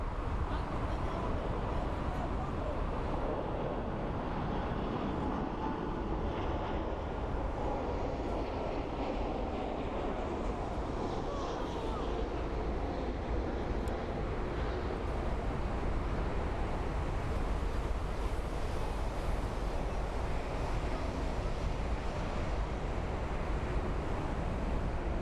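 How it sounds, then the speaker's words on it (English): A 15-year-old Airbus A330-343 landing at Frankfurt Airport, heard as a continuous, loud, broadband engine roar and rumble that stays steady for the whole stretch. "Aircraft is an Airbus A330-343 52F."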